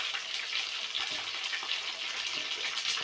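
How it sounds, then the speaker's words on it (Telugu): Green chilies frying in hot oil in a kadai: a steady, close sizzle with crackling and spitting pops throughout, fairly quiet overall, with no talking. "సో పచ్చిమిర్చి వేసుకొని ఫ్రై చేసేసుకుంటున్నాం కదా, ఫ్రై చేసేసుకోవాలి."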